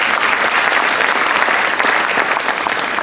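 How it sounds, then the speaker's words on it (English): Audience applause at an opening-remarks event for a community organization's new deputy director, dense and loud continuous clapping from a sizable crowd, steady throughout with no talk. "Let's give him a round of applause."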